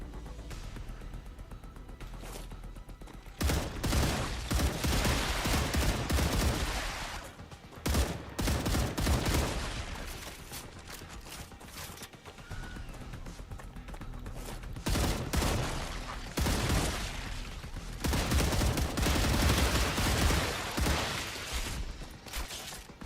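Rapid bursts of automatic gunfire from the sci-fi game StarRupture, loud and dense, coming in long sustained volleys broken by short pauses.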